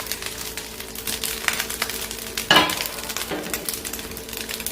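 Sautéed vegetables tossed into a hot pan of egg fried rice sizzle steadily, with a sharp metallic clink of a utensil on the pan midway and light stirring scrapes.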